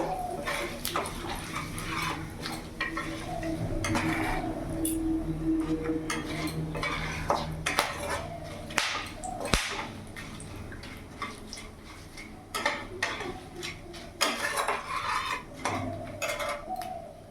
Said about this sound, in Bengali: ফোড়নে দিয়ে দিলাম দুটো তেজপাতা, শুকনো লঙ্কা, গোটা জিরে, গোটা গরম মশলা।